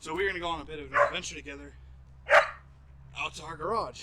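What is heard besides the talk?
dog barking in its dog run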